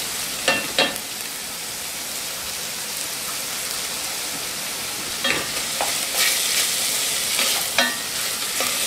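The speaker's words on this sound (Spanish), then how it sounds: "Freímos." Ground garlic and ají amarillo paste fry with a continuous hissing sizzle, broken by a few sharp scrapes and clatters of a utensil stirring the pan.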